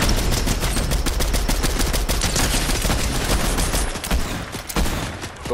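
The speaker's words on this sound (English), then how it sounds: "Oh, getting shot from somewhere." Dense, loud gunfire in a multiplayer shooter, a near-continuous rattle of automatic shots up close, thinning out briefly toward the end, with no talking over it.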